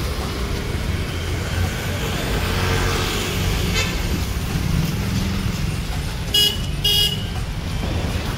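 A car idles and pulls out at night under a steady engine rumble, with a couple of brief high-pitched beeps near the end.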